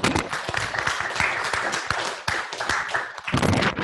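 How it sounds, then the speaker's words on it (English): Applause from the audience at the close of a talk on the impact of trees on the critical zone, steady crisp clapping from a small crowd, fairly close and continuous, swelling slightly at the end. "Shall we give ourselves a round of applause?"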